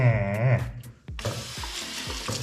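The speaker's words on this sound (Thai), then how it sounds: "ดูนี่ระบบก๊อกน้ำนะนี่ นี่ทำไว้นี่นะ ดัดแปลงเองได้นะ" A homemade semi-automatic hand-washing water tap turns on after a voice speaks briefly. Water then runs steadily with a close, hissing splash, along with a few small knocks and clicks.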